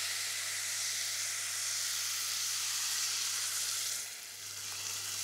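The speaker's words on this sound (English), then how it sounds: "now we want to completely cover this rice in this stock" Stock is poured over rice in a hot pan with onions, giving a steady, loud hissing sizzle that swells and then dips briefly near the end.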